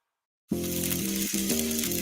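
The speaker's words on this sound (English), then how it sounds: "That's the sound of steak searing in its juices on your new pellet grill." Loud, steady sizzle of steak searing in its juices on a hot pellet grill, crackling and hissing continuously after a brief silent start.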